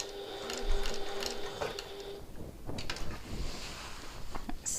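A sewing machine stitches slowly with contrast thread around a bag corner at a short stitch length, giving a few seconds of moderate stitching followed by a pause and scattered handling clicks and knocks; no speech.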